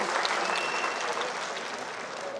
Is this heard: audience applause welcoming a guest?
yes